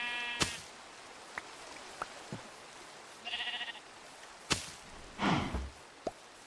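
Sheep bleating in Minecraft, one short bleat in the middle among scattered clicks and quick whooshes of gameplay, followed by a louder rushing swish near the end, with no talking.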